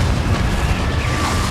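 Confringo fire blast spell exploding in Hogwarts Legacy, a short dense booming burst of rumbling blast noise with no speech.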